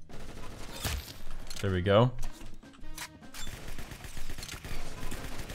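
Scar H rifle fire in the Roblox game Arsenal, with sharp bursts of shots and a reload clatter mixed in while someone talks excitedly over the action.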